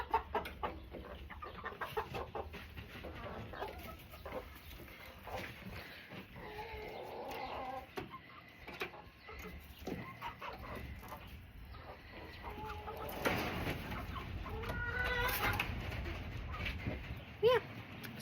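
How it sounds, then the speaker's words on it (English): Chickens clucking in a backyard flock: a busy mix of soft, irregular clucks and murmurs at close range over a noisy background, building slightly louder toward the end. "so there's the chickens"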